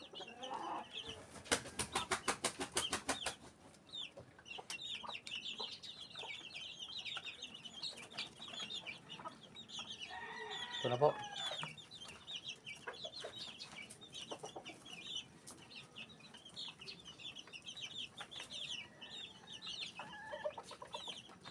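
Two-week-old gamefowl chicks cluck and peep softly as they eat, with scattered close chirps, a brief burst of rapid fluttering and small pecking sounds spread across a quiet pen.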